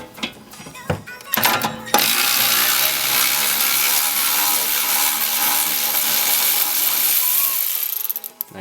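Ratchet with a 17 mm socket loosening caliper bracket bolts on a Lexus GS300, with a few sharp clicks and knocks up front, then a long, loud grinding, rasping stretch before it cuts off.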